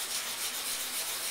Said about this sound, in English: I'm just going to go ahead in a circular motion and work on those edges with the sandpaper